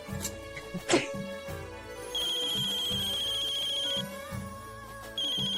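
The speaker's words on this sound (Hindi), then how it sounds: "कल्पी का फोन है।" A phone rings with a repeating high electronic tone. It starts after a couple of soft thumps, stops briefly, then rings again.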